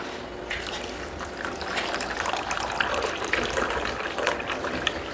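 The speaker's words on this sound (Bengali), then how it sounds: "তারপরে ঠান্ডা জল তোমরা এখানে অ্যাড করবে।" Cold water is poured into a glass of aam panna, the Bengali green-mango drink seasoned with salt and black salt, making a steady close splashing and gurgling stream over about five seconds, with no talking.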